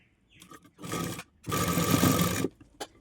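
Sewing machine stitching a folded sleeve edge, two loud close whirring runs of about a second each, separated by brief pauses and short clicks from handling the fabric.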